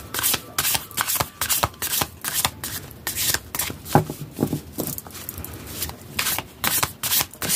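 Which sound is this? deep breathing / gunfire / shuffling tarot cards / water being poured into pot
shuffling tarot cards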